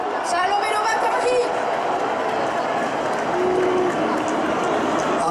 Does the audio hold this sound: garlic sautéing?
no